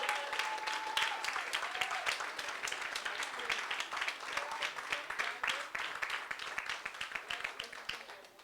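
Sustained applause from a congress audience after a political report, dense steady clapping filling the room with a few voices mixed in.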